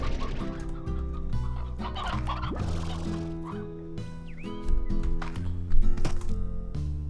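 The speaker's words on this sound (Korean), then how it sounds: "닭이 계속 생겨요!" Chickens in the video game Slime Rancher cluck repeatedly against a looping game soundtrack, with clucks spilling over one another at a moderate level.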